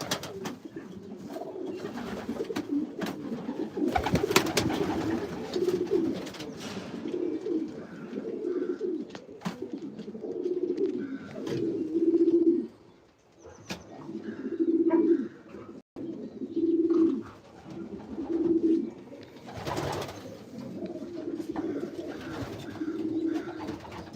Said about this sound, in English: These are racing pigeons.